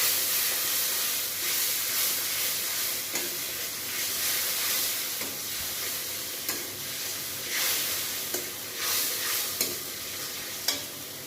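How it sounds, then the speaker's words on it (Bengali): A paste of ginger, chili, cumin and tomato with turmeric and salt sizzles and hisses loudly in a pan, with repeated scraping stirs and small spitting bursts. "আদা, লঙ্কা, জিরা, টমেটো একসাথে পেস্ট করে নিয়েছি। এবার একটু হলুদ গুঁড়ো দিয়ে দিলাম আর নুন দিয়ে দেখো মশলাটাকে এবার আমি কষিয়ে নেব।"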